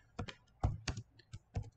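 Computer keyboard keys tapped while entering code in IntelliJ IDEA, about six quick bursts of clicks at an uneven rhythm, close and fairly soft, with no talking.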